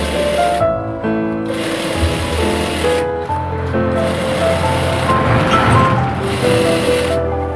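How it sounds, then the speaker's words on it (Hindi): A sewing machine runs a thick seam along a shirt's side, its loud, steady motor whir continuing without a break, briefly easing once and then resuming, with no voices. "आधा इंची दूरी पर हम एक मोटी सिलाई लगा देंगे।"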